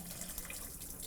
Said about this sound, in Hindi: पानी कर दें ड्रेन।